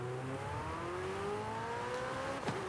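Engine of a 2018 ATS GT car in the Forza Horizon 5 racing game, a steady droning tone that slowly rises in pitch as the car accelerates, with a faint whoosh near the end.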